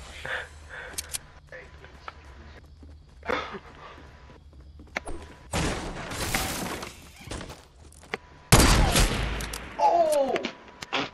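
Rifle fire in the Fortnite video game: a few scattered sharp cracks early, then two dense loud bursts of rapid shots, with a player talking excitedly between them.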